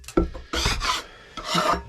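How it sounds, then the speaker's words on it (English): Chicken droppings being scraped off a box in a coop, three rough rasping strokes, close and fairly loud, with short gaps between them. "let me scrape all that off, I guess."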